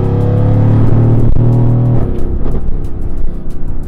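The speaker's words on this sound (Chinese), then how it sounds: "涡轮来真的蛮大力的" A turbocharged Mercedes-AMG flagship pulling under boost, a loud engine drone that breaks for a brief shift and then resumes, easing into a rougher, fluttering rumble toward the end.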